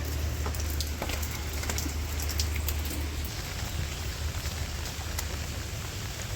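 Steady daylong rain falling around a home garden, a dense, even hiss of drops with scattered sharper patters on surfaces, constant and moderately quiet, with a low rumble underneath and no voices.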